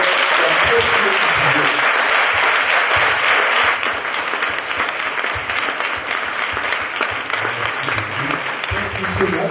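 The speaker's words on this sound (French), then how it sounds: "We are going to clap together." A church congregation claps together in thanks for the pastor at a Sunday service, loud sustained applause from many hands filling the room, easing slightly partway through, with a voice speaking over it.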